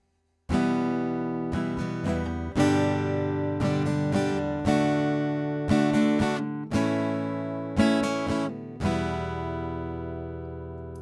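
Rhythm guitar strumming a chord progression, each chord given extra added strums, with about six sharp chord attacks ringing out and decaying in a steady rhythm, loud and close, no voices.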